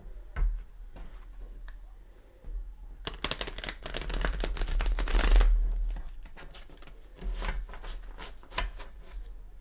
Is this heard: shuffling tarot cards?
yes